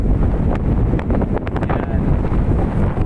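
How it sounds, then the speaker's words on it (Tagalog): Strong wind buffets the microphone on a hilltop island by the sea, a loud continuous roar with gusting surges throughout, no speech. "Lakas ng hangin."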